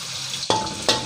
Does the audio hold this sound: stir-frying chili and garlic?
yes